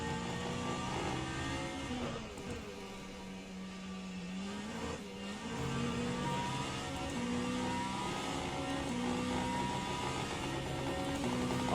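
A Vanwall LMH race car engine in rFactor 2 drones and revs through shifting gears, a continuous loud whine that dips and climbs again, with no voices over it.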